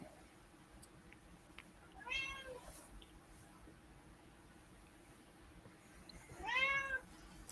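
A pet cat meows twice, at about 2 and 6.5 seconds, in a quiet room. The calls are clear but moderately soft, separated by a stretch of faint background hiss, and no one speaks.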